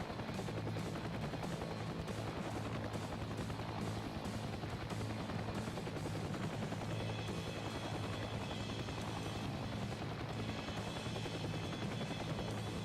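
A steady helicopter rotor drone with rhythmic chopping persists throughout, loud and continuous with no talking.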